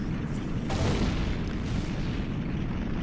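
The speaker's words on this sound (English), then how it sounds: "the tower crumbles to absolute nothingness" Tower crumbling and exploding in the Ocarina of Time video game: a dense, continuous booming rumble with a sharper burst near the start, steady and loud for about three seconds without talk.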